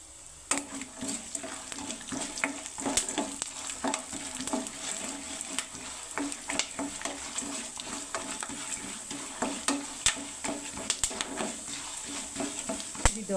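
Chana dal, urad dal, mustard seeds and cumin sputter in hot oil, a busy crackling sizzle with frequent sharp pops. The stirring scrapes stay close and fairly loud, with no talk.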